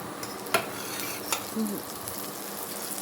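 A spoonful of butter melts in a kadai over a gas flame for masala corn, a soft steady sizzle broken by two sharp spoon taps against the pan and a faint brief tone, close and quiet.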